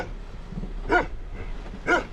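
Dogs on a hike in Vashlovani give two short sharp barks about a second apart, close and clear against a quiet outdoor background.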